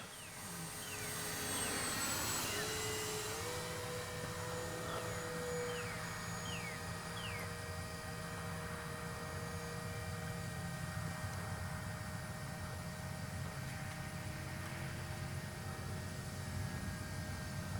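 A Kavan Bristell B-23 electric RC airplane flying inverted gives a steady, faint motor and propeller whine that holds constant for the whole stretch, with a few pitch shifts as it passes at a distance, and no voices.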